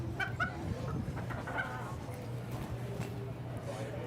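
Chickens cluck softly in short bursts at a county fair poultry showmanship ring in North Idaho, the birds' calls coming near and faint against a low hum of the show hall, with a judge and handlers talking quietly.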